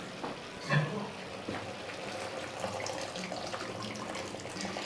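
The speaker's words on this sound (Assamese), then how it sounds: "এতিয়া ইয়াতে একেবাৰে গৰম পানী দিম উতলোৱা" Boiling hot water is poured into a frying pan of fried spinach while cooking fish curry. A soft, steady pouring and sizzling wash runs throughout, with a brief louder splash near the start.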